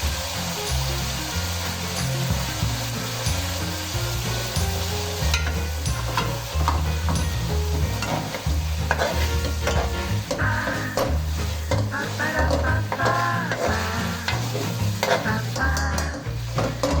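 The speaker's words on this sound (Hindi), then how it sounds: "और ऑयल डाल के थोड़ा सा भूनेंगे" Chicken sizzles and fries in oil in a karahi for a restaurant-style chicken karahi, with a steady, loud crackle and stirring scrapes running throughout and no talking.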